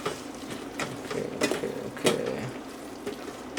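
Onions and other ingredients cooking down in a rice cooker pot, with a soft sizzle and several scraping stirs close by; a brief word is spoken.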